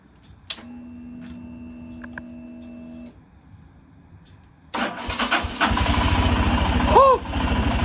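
A motorcycle, brought back after three hours of battery charging, cranks with a starter whine, then catches and runs into a loud, steady rumbling idle up close while a person exclaims.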